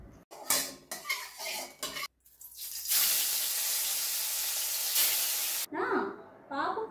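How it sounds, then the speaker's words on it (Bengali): Fish frying in coconut oil gives a loud, sudden hissing sizzle that holds for about three seconds, framed by clattering utensils, with a voice talking briefly afterward. "এবার মাছটা নারকেল তেল দিয়েই ভাজবো।"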